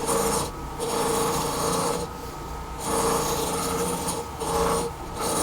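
A carpet cleaning machine scrubs a 49-year-old carpet with a steady, loud rasping drone that swells and eases in a slow repeating rhythm, close by with no talk.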